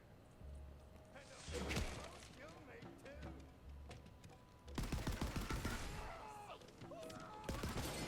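Rapid bursts of gunfire from the player's gun in the video game Wonderlands, coming in several clusters of repeated shots, loudest over the second half, with game music and effects underneath.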